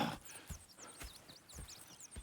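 Horse hooves clip-clop in Red Dead Redemption 2: a steady, even walking rhythm of soft clops about twice a second, quiet, with faint high chirps above.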